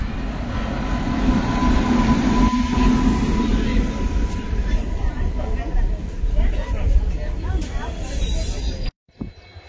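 Passenger train on the Howrah to Bangalore route rolling on rails, a loud, steady rumble with rattling wheels and a faint tone, cutting off abruptly near the end.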